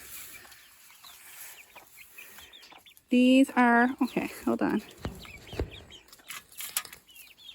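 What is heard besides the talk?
chickens clucking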